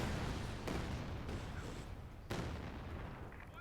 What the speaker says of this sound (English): Here comes the barrage